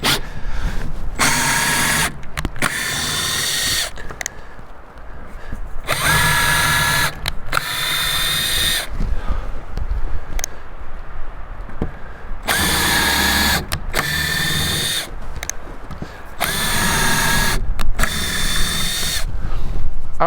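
Cordless power drill driving screws into a homemade worm composting bin, heard as repeated loud whirring bursts of a second or so each, separated by short pauses and handling clatter, close up with no talking.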